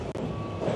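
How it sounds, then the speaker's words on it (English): A Toronto subway train pulls into a station with a steady low rumble, a brief dip in level early on, and a faint tone drifting across, heard at moderate loudness. "We got this train coming in."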